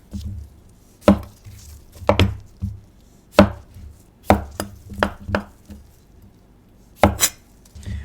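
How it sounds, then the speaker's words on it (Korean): A knife chops cucumber on a cutting board in sharp, close, irregular strokes with short pauses between cuts, clear and alone. "오이부터 썰겠습니다"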